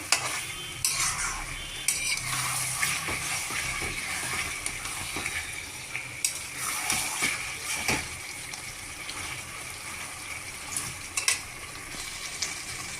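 Chicken stir-fried almost dry in a pan as a splash of water goes in, with steady scraping strokes of a spoon and metallic clinks over a soft sizzle, close by and without talk.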